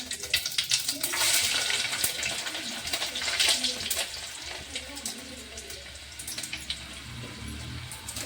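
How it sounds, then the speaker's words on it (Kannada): Mustard seeds, cumin and garlic sizzle in hot oil in a home kitchen, a steady close crackle and hiss that swells and eases throughout. "ಈಗ ಎಣ್ಣೆ ಕೈದೈತ್ರಿ ಸಾಸಿವೆ ಜೀರಿಗೆ ಹಾಕೊಂಡ್ರಿ ಮತ್ತು ಹಾಗೆ ಬೆಳ್ಳುಳ್ಳಿ ಹಾಕಿಡೋಣ"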